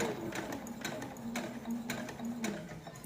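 A home sewing machine back-stitches through fabric, its needle tapping in a quick, even rhythm over a low motor hum, heard fairly quietly and up close.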